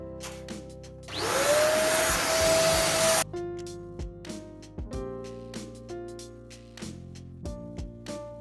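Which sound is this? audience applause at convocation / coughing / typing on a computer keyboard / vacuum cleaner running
vacuum cleaner running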